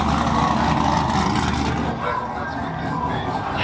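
A lifted pickup truck engine at an outdoor truck meet revs with a loud, deep rumble that holds strong for about two seconds, then eases to a lower, steadier idle drone.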